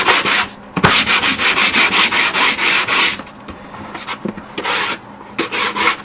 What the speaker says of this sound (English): I'm just sanding down the gesso that I applied on there